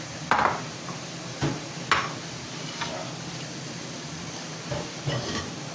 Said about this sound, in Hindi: ऑयल हमारा गर्म हो रहा है।